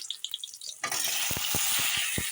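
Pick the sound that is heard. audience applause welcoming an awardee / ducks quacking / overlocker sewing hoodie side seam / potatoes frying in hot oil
potatoes frying in hot oil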